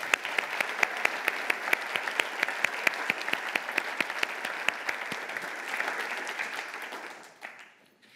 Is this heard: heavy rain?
no